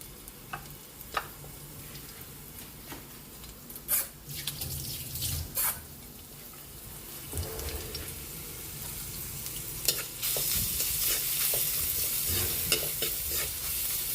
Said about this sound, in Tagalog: Lagyan na natin yung ating bawang